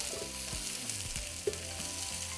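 Food sizzles and crackles gently in a pan for a northern Mexican guisado de arriero, a quiet steady frying sound with occasional soft pops and stirring.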